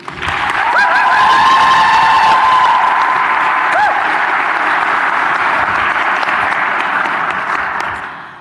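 A crowd at a college sports hall of fame induction ceremony applauds and cheers to welcome a presenter, loud dense clapping with a few whoops that holds steady and then fades.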